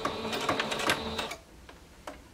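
A sewing machine back stitches elastic on a bodysuit with a fast, close mechanical whirr that stops abruptly, followed by a couple of faint clicks.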